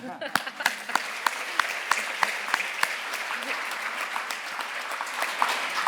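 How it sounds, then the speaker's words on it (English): Applause from a symposium audience at a hospital cleanliness event, dense and steady with sharp individual claps standing out, continuing for several seconds at moderate distance. "she already deserves your applause for that"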